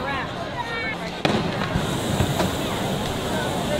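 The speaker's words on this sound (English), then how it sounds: "they have a fireworks show going, which is blocked by this tall structure" A fireworks show after a balloon event in Manitowoc sounds from behind a tall structure: a sharp burst, then scattered crackles and pops. People talk throughout.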